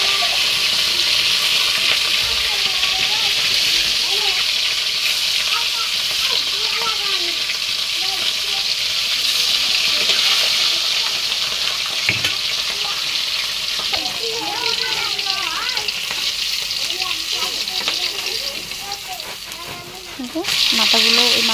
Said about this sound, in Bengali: এবার এই বাকিগুলোও ভেজে নেব।